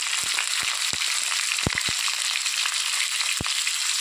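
Cut potato halves with salt and turmeric fry steadily in hot oil, giving a continuous broad sizzle with a few sharp pops and spatters scattered through it, close and alone with no talking.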